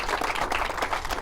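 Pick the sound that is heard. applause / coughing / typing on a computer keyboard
applause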